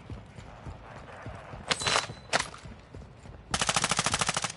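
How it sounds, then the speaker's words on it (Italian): Gunfire in Call of Duty Warzone 2 DMZ: a couple of short, sharp bursts in the distance, then a closer, rapid machine-gun volley of evenly spaced shots, over a low background rumble. "siete sotto fuoco nemico"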